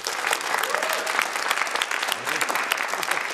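A studio audience claps together, a dense, lively burst of applause that holds steady throughout, with a voice faintly under it.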